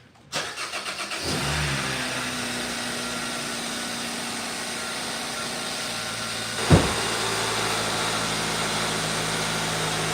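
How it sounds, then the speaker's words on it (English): A Hyundai Sonata engine cranks and catches after an oil change, then settles into a steady, close idle that runs on, with one brief knock or bump partway through; no talking. "we're just gonna run this for a couple of seconds, get the oil fully pumping around the engine"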